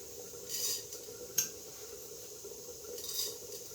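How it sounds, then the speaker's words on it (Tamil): Cumin seeds and urad dal go into a pan for tempering, heard as a few soft clinks of a metal spoon against the pan and one sharp tap, with a faint sizzle beneath and no talking. "இப்போ கொஞ்சம் ஜீரகமும் உளுத்தம்பருப்பும் ஆட் பண்ணிக்கிறேன்"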